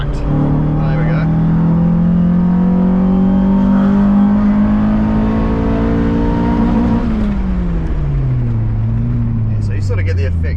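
A Nissan SR20VE engine with VVL in a P11 car revs hard with a loud, rising harmonic drone that climbs steadily, peaks, then drops away as the revs fall, sustained and close throughout.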